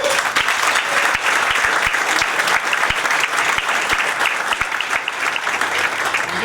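Sustained applause for sponsors at a federal leaders' speaker series luncheon, a large audience clapping steadily and densely throughout, close and loud with no talk over it.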